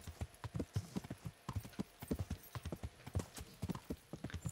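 Horse hooves clip-clop in steady, fairly close rhythmic beats during the medieval role-playing game Kingdom Come: Deliverance, with a brief whinny and faint background ambience.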